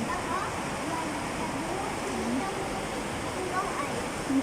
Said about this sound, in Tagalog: Malakas ang buhos ng ulan.